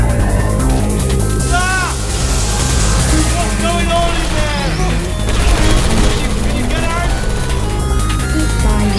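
Rapid turret gunfire in the video game Portal 2 rattles in sustained, loud bursts for the whole stretch, mixed with game effects and voices.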